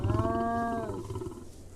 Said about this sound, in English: Then these are the calls for the baby Golugore.